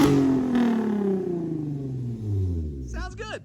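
An Infiniti G37 with a full ISR exhaust, longtube headers and catback, revs close by. A loud harmonic engine note sweeps down and swells again, and voices follow at the end.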